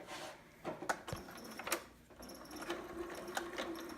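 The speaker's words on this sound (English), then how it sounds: "I'm going to straight stitch along that using that inside of the right side of the foot as my guide" A sewing machine stitching a straight seam on a baby sitter garment, faint and close, with soft rapid mechanical ticks and clicks and uneven bursts rather than a smooth whir.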